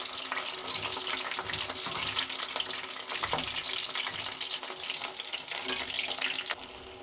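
Jackfruit pieces sizzle and crackle steadily in hot oil in a pan, a continuous close frying hiss with small pops throughout and no talk.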